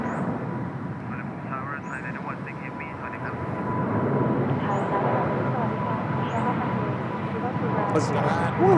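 An EVA Air jet roars past at an airport in Bangkok, a loud, steady engine rumble that builds and swells over several seconds while people talk and cheer nearby.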